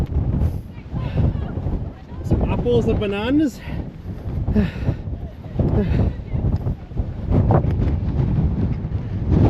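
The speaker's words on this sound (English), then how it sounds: "This is very windy." Strong gusting wind buffets the microphone on Arthur's Seat in Edinburgh, a loud low roar rising and falling with brief talk over it.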